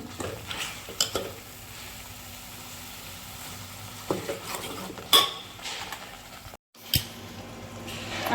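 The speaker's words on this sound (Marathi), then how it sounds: "आता आपण याच्यात मटण टाकूया." Mutton pieces going into masala frying in oil in a kadhai, with a soft steady sizzle and scattered clanks and scrapes of a spoon against the pan. One brief silent gap falls near the end.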